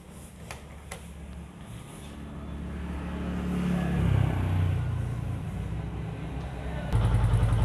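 A Vikrant V15 motorcycle with a one-way clutch fault runs its engine close up with a steady rumble that rises into a rev around the middle. A sharper mechanical burst comes in at the end.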